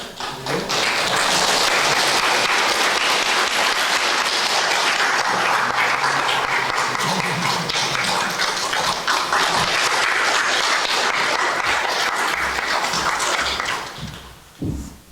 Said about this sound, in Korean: 전해드릴 때 우리 박수로